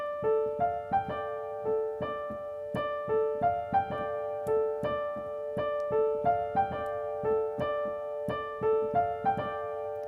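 A piano plays the riff from a song at normal tempo, repeating its short, rhythmic pattern of bright plucked-sounding notes steadily and clearly, with no talking.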